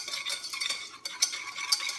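A utensil stirs a roux of melted butter and all-purpose flour in a pan on a stovetop, giving brisk, repeated scraping and clinking strokes close up, with no talking.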